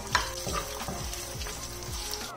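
Tomato ketchup is mixed into a chicken filling in a pan, with a spatula scraping in about five regular strokes over a soft sizzle, close and clear, with no speech.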